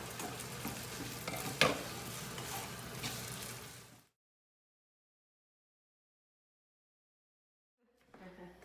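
Zha jiang mian sauce frying in a pan, a close, moderate sizzle with stirring and a sharp clink near two seconds, cutting to silence after four seconds before faint noise returns.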